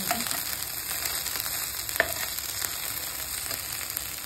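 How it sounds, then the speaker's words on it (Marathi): Okra sizzles steadily while frying in a pan, a soft continuous crackle with a few small pops and no voices. "मस्त भेंडी फ्राय करून"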